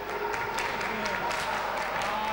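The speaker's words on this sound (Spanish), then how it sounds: "Ahí está la gente aplaudiendo ya la jugada de La Roda desde antes de empezar." A crowd applauds steadily at a basketball game between Globalcaja La Roda and Gran Canaria, with a commentator speaking over the scattered clapping.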